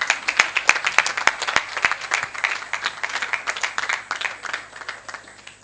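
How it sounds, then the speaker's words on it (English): Conference attendees clap as a panelist is introduced, close, sharp handclaps at first spread out, then growing into denser, quicker applause that gradually fades. "The more you clap, the faster she comes."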